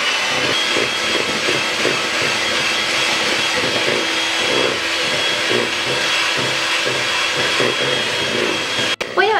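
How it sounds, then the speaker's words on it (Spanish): An electric mixer beats a crispy oil-based cookie batter with powdered sugar, its motor giving a loud, steady whirring drone that runs without a break for the whole stretch and ends in a brief knock near the finish. "Voy a batir aproximadamente 2 minutos hasta que se aclare un poquito mi mezcla"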